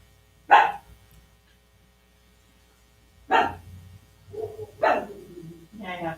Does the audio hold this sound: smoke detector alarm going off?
no